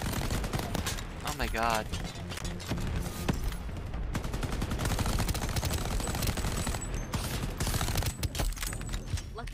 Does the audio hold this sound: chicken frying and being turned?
no